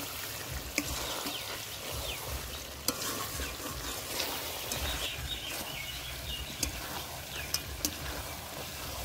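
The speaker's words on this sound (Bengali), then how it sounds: "মাংসটা ভালো করে কষে নিয়েছি" Chicken pieces cooking down in oil in a pan for a curry, with steady sizzling and the scrape of stirring throughout, plus a few sharp clinks of the utensil against the pan.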